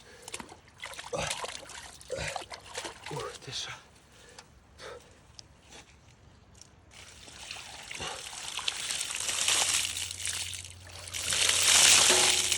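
Cold water at about five or six degrees is poured from buckets outdoors in light drizzle, starting as scattered splashes and building into a heavy, continuous gushing pour near the end, while a man exclaims briefly.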